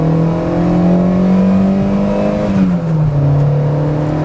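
A 1981 VW Rabbit pickup with a five-speed manual gearbox accelerates through the gears, its engine note a loud, steady drone that dips briefly at a shift and then settles at a lower pitch.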